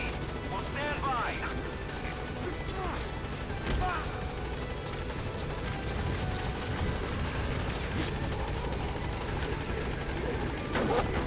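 Helicopter landing at a landing zone in Metal Gear Solid V: The Phantom Pain, a continuous rotor and engine drone under game radio chatter and voices.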